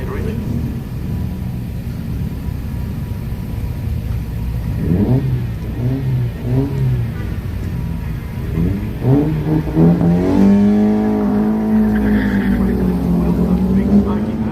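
A 2002 Toyota Celica with a 1.8 litre engine revs loudly at a sprint start line, rising and holding into a smoky burnout, with a commentator talking over the engine.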